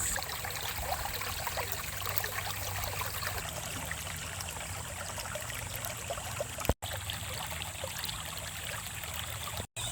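A swollen creek pours over a bridge like a waterfall after a flood in the bush, a dense, continuous rushing roar that stays steady and loud throughout, with two sharp momentary dropouts.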